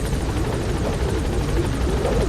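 A helicopter in Metal Gear Solid V: The Phantom Pain thumps steadily with rapid rotor chop and a dense engine drone, loud and continuous, with no talk.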